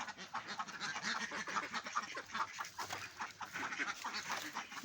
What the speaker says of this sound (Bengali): এই যে আমার হাঁসগুলা